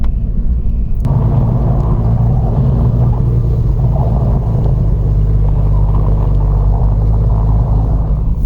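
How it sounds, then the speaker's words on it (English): Jeep XJ in 4 low first gear creeping slowly downhill through snow, a steady deep engine rumble that holds loud and constant throughout, with no one speaking. "We're in 4 low, first gear, just trying to slowly come down the hill."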